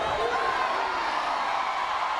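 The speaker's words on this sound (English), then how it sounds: "the crowd are really, really up for this" A large Paralympic judo crowd in the Rio 2016 arena roars and cheers in a steady, dense wash of voices, loud and continuous throughout without clear individual words.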